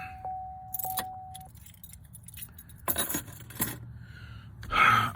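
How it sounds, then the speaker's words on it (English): A car is switched off and a set of keys jangles, giving a few brief metallic chimes and clinks spread out over a quiet background with light handling noise. "Let me shut the car off real quick."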